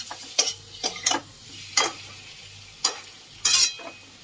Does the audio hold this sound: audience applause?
no